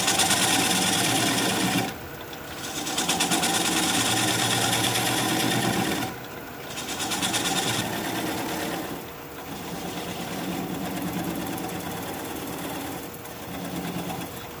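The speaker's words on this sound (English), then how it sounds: "I'm gonna switch to a 3/8 inch swept-back gouge to remove the rest of this tenon" A wood lathe turns a plum crotch bowl while a 3/8 inch swept-back gouge cuts away the tenon, giving a steady, close whirring hum that briefly dips a few times.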